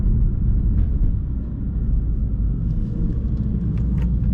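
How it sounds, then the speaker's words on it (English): A BMW M2 idles in sport mode with a steady, deep low exhaust rumble, close and continuous, without any revving. "In sport mode, the car sounds pretty good"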